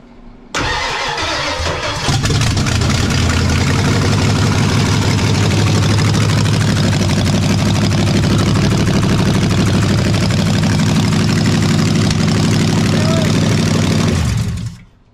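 A car engine cranks and catches, then runs loud and uneven for over ten seconds with a rough, lumpy idle before cutting off.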